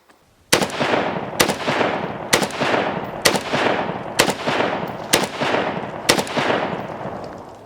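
Century Arms BFT AK-47 rifle firing 5.56 rounds, seven loud, close shots at a steady pace about one second apart, each with a sharp crack and a ringing outdoor echo trailing into the next.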